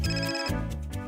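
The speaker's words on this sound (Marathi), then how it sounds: "तुझा फोन वाजतोय का?" A mobile phone rings indoors in a Marathi household, a short bright repeating ringtone pattern heard clearly with no talk over it.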